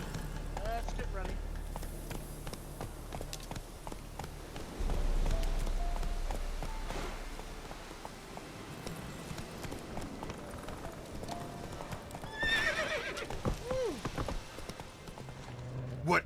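Hooves of Roach, the horse in The Witcher 3, clip-clop at a steady gallop through much of the scene, with game music and effects layered over it and someone talking intermittently.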